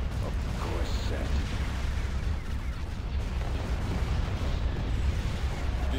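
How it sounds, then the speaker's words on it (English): Missiles and proton torpedoes exploding in a Star Wars space battle game, a dense, continuous roar of blasts and booming impacts with heavy low rumble throughout. "The amount of missiles we're landing on this. And proton torpedoes."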